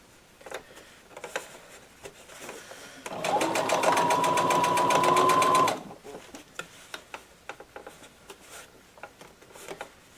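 A sewing machine stitches a zipper into cosplay fabric in one steady, loud burst of about three seconds, with a fast, even mechanical chatter. Quieter handling sounds come before and after it.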